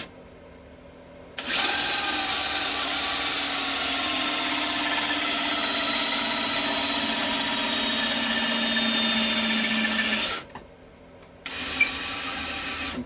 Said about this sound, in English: let's just carry on and drill through into the back